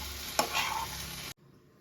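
Fresh homegrown flat beans and potatoes being stir-fried in a pan: one sharp scrape of the spatula, then a close, steady sizzle that stops abruptly near the end.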